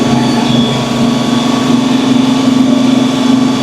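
A tractor engine works steadily while pulling a five-bottom plow through a field, a loud continuous drone with a strong low hum throughout and no talk.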